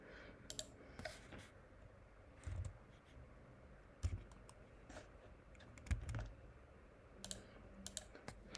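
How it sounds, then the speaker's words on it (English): Clicks of typing on a computer keyboard, a few irregular bursts of keystrokes spread across a quiet room background, close and soft. "I'm just typing, I'm not even looking up"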